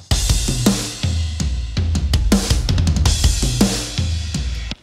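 A polished, punchy, fully mixed modern rock drum kit groove from the Robot Dog Drums library, with tight kick, snare hits and crisp cymbals, playing steadily and loud with no talking.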